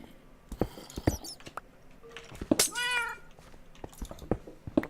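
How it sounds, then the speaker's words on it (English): A wither cat in the Minecraft modpack Modern Skyblock 2 gives one clear, rising-then-falling meow midway, amid scattered clicks, pops and glassy game effects at moderate level. "That's probably a wither cat actually, judging by the sound effects of"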